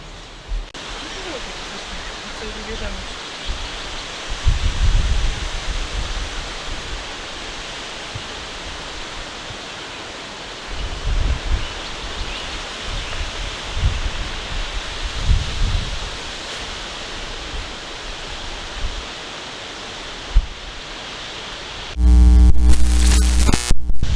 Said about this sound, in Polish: ostro wieje, ostro, ostro